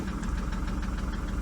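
Salvage Fiat 500 or VW Polo engine running rough with the whole car shaking, a dense uneven knocking drone that holds steady and close throughout the short burst.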